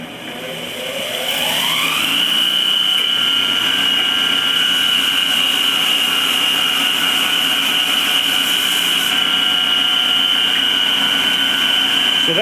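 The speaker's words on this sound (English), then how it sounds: "I'm just going to quickly buff it" A motorized buffing wheel spins up over a couple of seconds into a loud, steady high whine while it polishes a planished area of metal armour, holding an even pitch to the end without talk.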